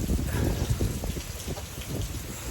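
Steady rain falling nearby at a viewpoint in Cherrapunji, a dense continuous patter with a constant hiss and no pauses.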